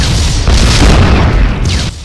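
Heavy booming blasts while firing on a ship in the video game Darkfall, a loud continuous roar of explosions filling the short stretch.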